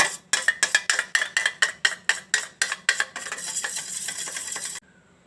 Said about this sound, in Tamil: நெய் ஊற்றி நல்லா அடிச்சிக்கணும், எண்ணெய் மாதிரி வர மாதிரி நல்லா அடிச்சிக்கணும்.